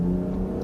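A 2024 Land Rover Defender P400 with an inline-six engine pulls hard under acceleration, giving a loud, close, steady engine drone with a low growl over a short burst.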